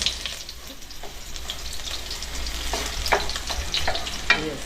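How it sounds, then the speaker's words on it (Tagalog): Onion and garlic sautéing in a pan, a steady close sizzle with scraping stirs and a few louder clatters of the utensil, no talking. "So ngayon, bali magigisa na tayo."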